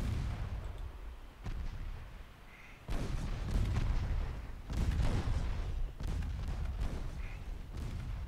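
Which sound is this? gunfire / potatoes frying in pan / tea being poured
gunfire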